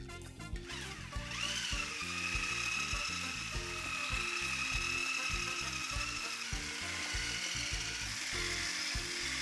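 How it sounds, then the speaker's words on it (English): An electric hand mixer whirs steadily as it beats eggs and sugar for a cottage cheese cake, a continuous close motor drone with clattering beater texture running the whole time, no talking. "beat the eggs and sugar with a mixer till they're light and have increased in"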